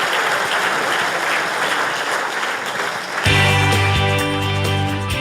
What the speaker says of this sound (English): Let's give a round of applause for these folks.